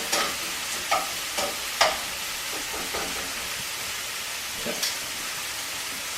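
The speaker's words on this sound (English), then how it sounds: "While that's browning and the pancetta is crisping up" Pork chops and pancetta frying in a pan give a dense, bright sizzle throughout, with several sharp spatters and pops early on and another near the end, close up.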